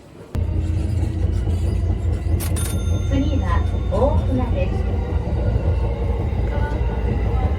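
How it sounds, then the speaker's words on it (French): A train in Japan rumbles steadily as it pulls into a station, a loud continuous low roar with brief squeals and clatter partway through and faint voices underneath. "j'arrive à la gare"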